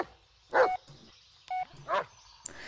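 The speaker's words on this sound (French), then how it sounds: "Oh, il est trop beau, le chien." A dog in the video game Blair Witch gives two short, sharp barks, spaced apart in a quiet forest setting, with a faint whimper between them and nobody talking.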